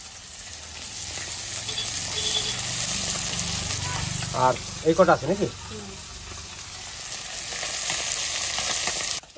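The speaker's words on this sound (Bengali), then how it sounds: "মাছ ভাজা শুরু করে দিয়েছো?" Small fish sizzle in hot oil in a pan, a steady frying hiss that runs throughout at close range, with a short spoken question breaking in midway.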